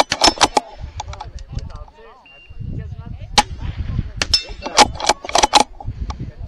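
Several sharp metallic clangs ring out as rimfire bullets strike steel targets during a long-range rimfire competition. The hits are spaced irregularly, each a bright ping mixed in with crisp gunshot cracks and the rattle of handling gear.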